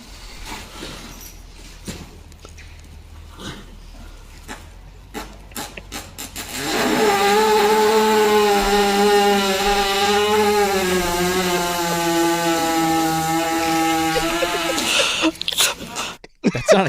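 A long, loud, buzzing animal fart, one sustained rasping blast of about eight seconds that rises out of quieter background rustle and then cuts off.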